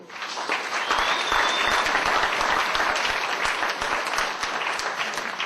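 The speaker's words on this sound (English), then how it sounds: "put your hands together once again for Matthew and Brooke" Wedding guests applaud the newlyweds Matthew and Brooke, a loud, full round of clapping that builds quickly and carries on steadily for several seconds.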